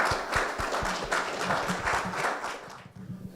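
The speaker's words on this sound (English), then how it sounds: "Let's give Mr. Abdullah Bey a round of applause" A round of applause for a studio guest on a broadcast, dense close clapping with sharp individual claps, sustained evenly before fading out near the end.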